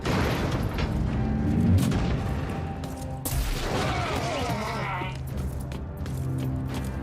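Sustained heavy gunfire from a weapon in Warhammer 40K: Inquisitor - Martyr, a dense roaring barrage with booming bursts and a sharp blast midway, loud and continuous.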